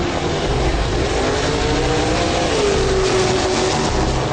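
The fastest street-legal car idling and warming up at a drag strip, a steady loud engine drone with a rising then settling tone, heard close and uninterrupted.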